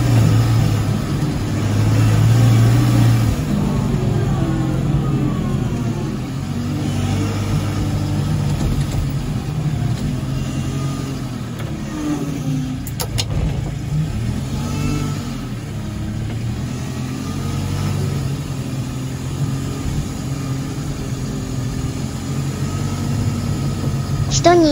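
A ZW100 wheel loader used for snow removal runs steadily throughout, a low, continuous engine rumble with slight shifts in load, heard from inside or near the machine, with a voice talking over it.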